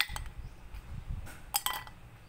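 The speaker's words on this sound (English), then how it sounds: "some ice cubes." Ice cubes dropped into a cocktail glass, a few close, bright clinks and clatters with quiet gaps between them and no talking.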